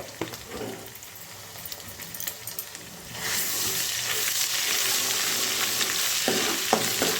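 Ginger paste sizzles in a pan with fish and onions, a quieter frying hiss at first that swells into a loud, steady sizzle, with occasional scraping clicks from stirring.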